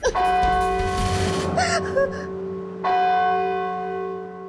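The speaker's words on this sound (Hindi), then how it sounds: "घंटी सुनी तुमने?" A large bell rings with a sharp strike, then its long sustained tone and overtones hang and decay before a second strike renews the resonance, with a brief gasp-like breath in between.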